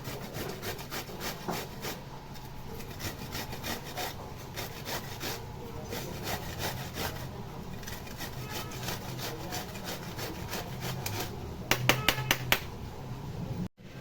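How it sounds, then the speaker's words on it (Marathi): Ridge gourd grated by hand, ridges and skin included, for a chutney: close, steady rhythmic rasping strokes run continuously, with a few sharper knocks near the end. "आता आपण हे आहे ना किसून घेऊया"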